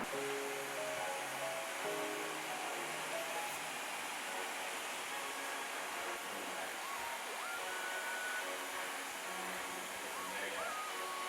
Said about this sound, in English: I'm going to come in with my blow dryer using a little bit of heat